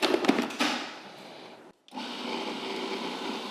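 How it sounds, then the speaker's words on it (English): A blender whirs through a mixture in short bursts, pausing for a moment before running again at a steady, moderate level. "now I'm gonna blend this together"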